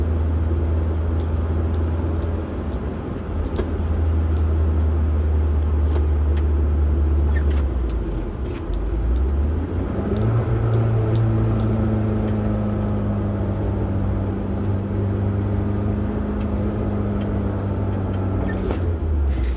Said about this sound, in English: That was me downshifting down a hill to slow down in front of a residential area